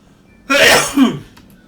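One sharp, close sneeze bursts out of near silence in a quiet room during a Wizard101 game session, a brief explosive blast with a short trailing breath.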